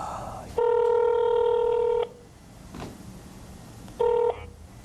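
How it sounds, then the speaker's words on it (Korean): Telephone dialing tones sound clearly: one long steady beep lasting about a second and a half, then after a pause a second short beep, over a faint background hiss. "제가 한번 전화를 좀 해볼게요."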